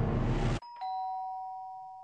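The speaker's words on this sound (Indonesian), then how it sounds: "bel rumahku berbunyi" A doorbell rings in the Catatan Maya video game. A burst of noise cuts off abruptly, and then a clean two-tone ding-dong chime follows and rings out, moderately loud and alone.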